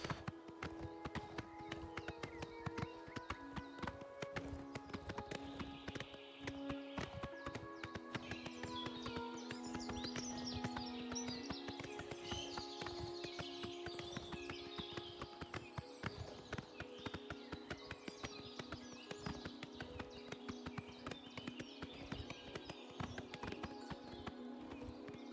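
Horse hooves gallop in Oblivion Remastered, a steady rapid clip-clop that runs continuously under a bed of game music and birdsong, fairly near and consistent in level throughout.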